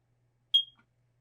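A single short, high-pitched electronic beep from a carbon monoxide detector being tested in an RV cuts through near-silence, followed by a faint softer click.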